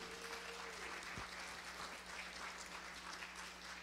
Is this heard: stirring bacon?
no